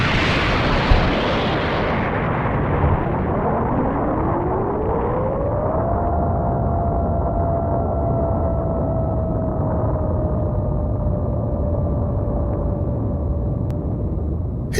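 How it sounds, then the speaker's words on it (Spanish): Explosions and falling rocks echoing off the narrow walls of a canyon: a long, steady, loud rumbling roar that keeps going with no break, alongside a tone that rises and then holds. "El eco de las explosiones rebotó una y otra vez en las paredes estrechas"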